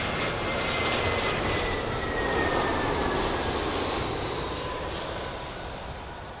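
Boeing 777 jet airliner on arrival at London Heathrow's runway 27L, its engines roaring loud and close with a steady broadband rush and faint whine that slowly eases off.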